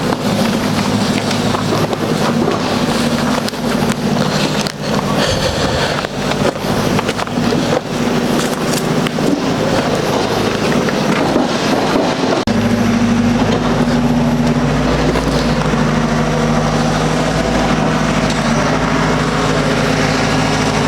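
A tractor engine runs close by on a farm road visit, a loud steady low drone with rumbling mechanical noise and wind buffeting the microphone throughout, growing heavier in the second half.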